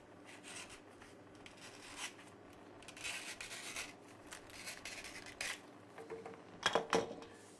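Strap cutter drawn through a scrap of leather to cut a strap for a phone holster, a faint, close rasping and scraping in uneven strokes with a few sharper clicks near the end.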